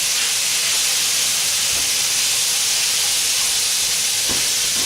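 Loud, continuous sizzling hiss of beef in black bean sauce stir-frying in a hot pan, with a few faint clinks from stirring.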